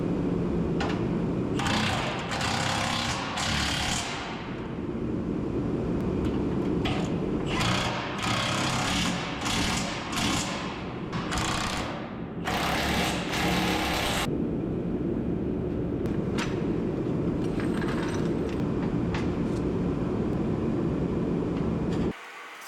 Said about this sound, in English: then I'll start sending them in with the impact.